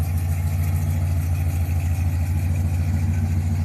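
A muscle car engine idles and revs at a hot rod car show in Broken Bow, Oklahoma, giving a loud, close, heavy rumble that holds steady throughout with no talking.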